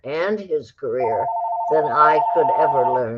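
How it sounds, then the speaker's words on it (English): A telephone rings with a steady electronic tone that sits under a person's continuous talking, in a radio interview setting. "That's the phone I didn't turn off."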